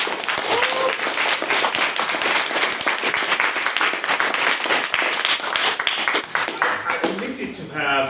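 A debate audience applauds after a maiden speech, a dense sustained wash of clapping filling the room for several seconds before thinning out as a voice begins near the end.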